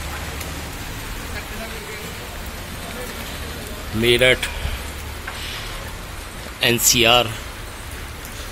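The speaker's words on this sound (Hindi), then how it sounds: "तेज बारिश इस समय" Heavy rain falling in Meerut, a steady dense hiss of downpour throughout, with two brief spoken phrases breaking over it.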